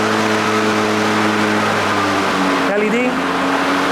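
The blade motor of an ECHO DLM 2100SP 21-inch steel-deck, 56V brushless self-propelled lawnmower runs as a steady close hum, with a brief pitch shift near the end as the blade engages.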